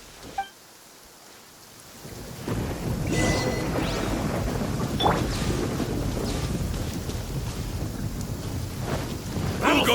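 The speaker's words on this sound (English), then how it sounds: "Thunder and lightning can be quite frightening, but don't worry." Thunder rumbles and steady rain fall in the Genshin Impact video game, a quiet start building after two seconds into a loud, continuous downpour with rolling thunder throughout and a few sharper cracks.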